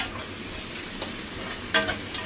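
Onion, green chilli, garlic and turmeric fry in oil with a soft, continuous sizzle, broken by a couple of sharp spoon-against-pan scrapes toward the end; no voices.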